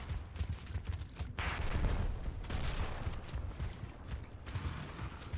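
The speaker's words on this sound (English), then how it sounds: "And now we hear shotgun shots going out." Shotgun fire in a Gears of War esports match: dense, continuous game combat noise with repeated loud blasts and mechanical clatter, no voices over it.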